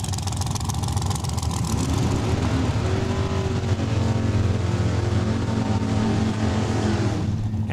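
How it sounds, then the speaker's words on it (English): At Saskatchewan International Raceway, a 2012 dragster warms up its rear tires, its engine roaring loud and close in a sustained, rising drone with a rough rasping texture, then dropping off at the very end. "Travis McBain warming up those rear tires, the 2012 dragster"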